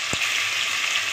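Boal fish (wallago catfish) frying in a pan, a steady hiss of hot oil filling the whole stretch, close and fairly loud, with a single brief low thump near the start and no voices.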